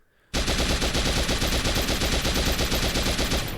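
Rapid sustained automatic fire of 5.56 JHP rounds in the VR shooter game H3VR, starting abruptly after a moment of quiet and continuing as a loud, dense, evenly pulsing burst to the end.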